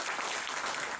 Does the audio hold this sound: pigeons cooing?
no